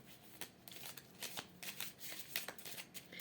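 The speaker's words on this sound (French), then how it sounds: "on va prendre une petite carte avec l'oracle des amoureux" A deck of love oracle cards is shuffled and drawn, giving a run of quick papery riffles and soft flicks that come close and fairly quiet, with no voice over them.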